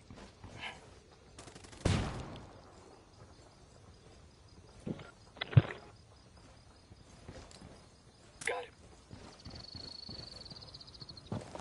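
Scattered gunshots in Ghost Recon Wildlands PvP, with a few sharp, separated cracks at moderate distance over quiet ambient background and faint tonal game sounds.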